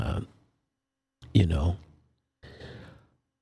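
A person yawns between pauses in talk, giving a drawn-out breathy exhale with a voiced groan, followed by a shorter, softer breath. All of it is close and quiet.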